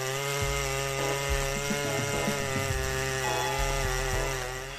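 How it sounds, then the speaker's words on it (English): Stihl MS 881 and Farmertec 808 chainsaws cut through giant oak trunks, a loud, continuous buzzing roar with shifting engine pitch as the chains bog and rev under load, heard alone without talk. "The Stylemas 881 and Farmer Tech 808 side by side redefined the art of cutting giant oak trunks."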